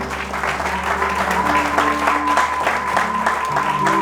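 A church congregation applauds and cheers in praise at a New Year's crossover night service, a dense, sustained round of clapping over held musical tones.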